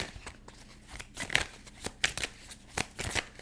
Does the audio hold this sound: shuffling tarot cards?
yes